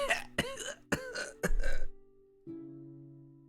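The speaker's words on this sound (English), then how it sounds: "Kind of smoke, and you hear coughing." Several harsh coughs and throat-clearing bursts in quick succession amid smoke after an explosion, then a low sustained hum lingers alone.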